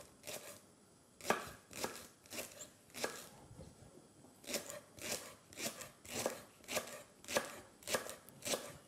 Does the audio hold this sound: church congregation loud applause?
no